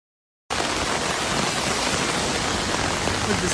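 Heavy rain pours down in a steady, dense roar that starts abruptly and continues without a break, loud and close.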